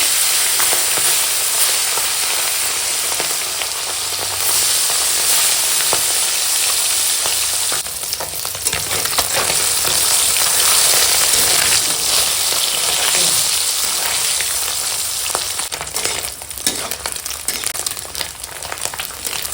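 Small puti fish rubbed with salt and turmeric fry in hot oil with a loud, dense, continuous sizzle and crackle throughout, close up, with occasional brief bursts of spattering.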